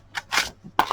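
Scissors cut card stock in a few quick, crisp snips at close range.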